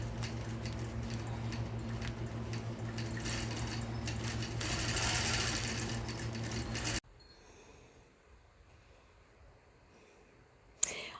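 A Butler quilting machine stitches crushed velvet quilt backing with a steady, close mechanical whir for about seven seconds, then drops away to a faint, quiet room tone.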